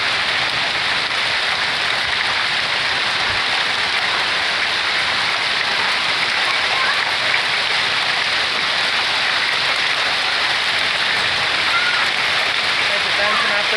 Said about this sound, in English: spring rainstorm can turn into hail real quick out here